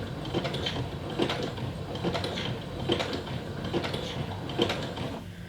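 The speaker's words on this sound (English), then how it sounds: "very slowly press down on my presser foot and stitch" A sewing machine fitted with a button foot stitches slowly while sewing on a button, giving a soft mechanical whir with regular clicking beats spaced under a second apart, close and without speech.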